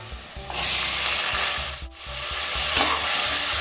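Three finely chopped tomatoes are stirred into a hot pan of browned onions for a chicken gravy, giving a close, steady sizzle with scraping stir strokes over a few seconds.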